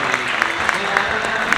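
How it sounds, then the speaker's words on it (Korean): Wedding guests applauding in a hall, a steady burst of dense clapping with a rhythmic pulse, close and moderately loud. "뜨거운 박수 다시 한번 부탁드리겠습니다"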